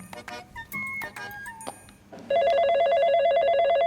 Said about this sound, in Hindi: अब मिलाते इसके बाप को फोन